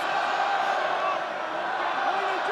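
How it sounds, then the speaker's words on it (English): Home crowd at a Scarlets v Ospreys rugby derby on Boxing Day, a sustained roar of support filling the stadium, steady and loud, with a commentator speaking over it. "The home crowd giving their support."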